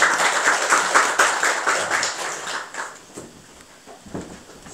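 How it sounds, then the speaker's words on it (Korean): A church congregation at Grace Garden Church applauds in thanks after a prayer, with dense, steady clapping for about three seconds that then thins out and fades into scattered claps and quiet room sound. "우리 하나님께 감사의 박수 드리겠습니다"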